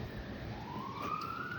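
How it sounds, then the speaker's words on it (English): A distant emergency siren with a slowly rising wail, faint and steady against low background rumble outside a home near a driveway. "And then there we go with the sirens."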